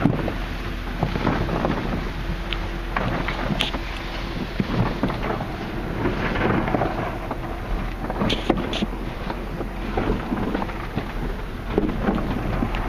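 Automatic car wash brushes and water spray drum steadily against a car from inside, a dense continuous roar and splatter with occasional sharper thumps, loud and close throughout.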